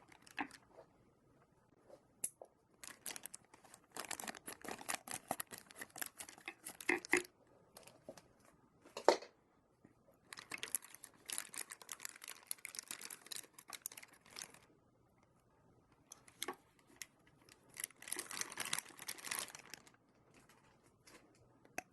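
Anime figure from the Taito Free Eternal Summer Youth Version line, with a clear plastic base, being unwrapped from crinkly plastic packaging; close, bursty crackling and rustling in uneven spurts separated by short quiet gaps, no talking.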